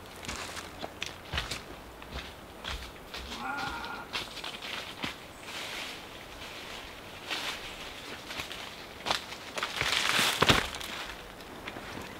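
A sheep moves about close by, its footsteps pattering and shuffling over the ground, with a short bleat in among the steps.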